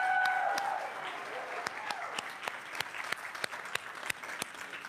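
Church congregation applauding during a Sunday service, steady dense clapping continuing after a sung note fades at the start, moderately loud and close, holding level throughout.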